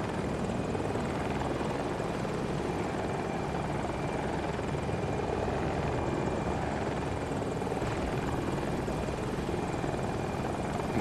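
Helicopter flying in a video game near power lines, its rotor producing a loud, constant, close whirring drone that runs unbroken for the whole stretch.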